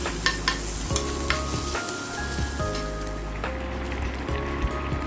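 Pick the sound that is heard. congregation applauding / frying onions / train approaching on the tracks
frying onions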